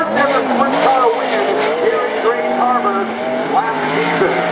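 Sprint cars race on a dirt track at Grays Harbor Raceway during wingless tour qualifying, engines whining loud and continuous with rising and falling pitch as cars pass, under an announcer's voice.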